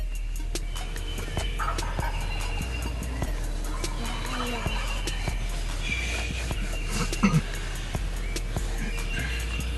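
Wild turkeys gobble in the morning near a hunting blind in Indiana, with several distant rattling gobbles breaking through under steady narration and faint background noise.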